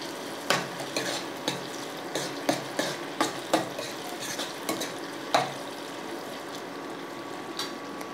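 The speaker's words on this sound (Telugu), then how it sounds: "ఉల్లిపాయ ముక్కలు ఎర్రగా వేగే వరకు ఉంచుకోవాలి." Onion pieces and green chillies frying in a pan, a steady sizzle broken by regular sharp scrapes and taps of a spoon stirring, close and without talk.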